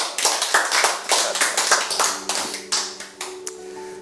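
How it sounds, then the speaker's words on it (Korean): Applause at a cooperative's community meeting, many hands clapping in a dense burst that thins toward the end, with no talk over it. "박수 한번 해주셔도 될 것 같은데"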